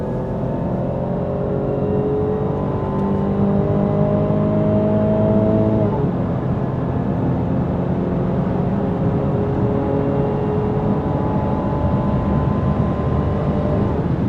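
Inside the cabin of a moving Range Rover Vogue, a steady, fairly loud drone of engine and road noise runs throughout, with a brief shift in pitch midway, as the closed sunroof lets in no wind whistle.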